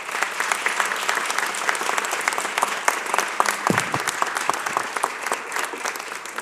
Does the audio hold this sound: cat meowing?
no